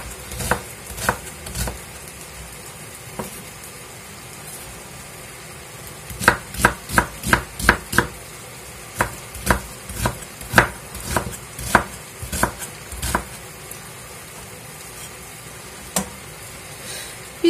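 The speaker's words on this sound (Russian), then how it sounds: "Лук нарезаю крошкой." A knife finely chops a flat onion on a board in quick bursts of sharp, close taps. Pauses separate clusters of rapid strokes, and there is no talk.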